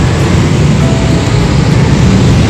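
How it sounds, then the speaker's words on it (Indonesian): Motorcycles and other vehicles pass on a main road beside the former Bojonegoro Kota station in Indonesia. Traffic makes a loud, continuous roar close by, with no distinct pauses and no talking. "di sini ada suara kendaraan motor"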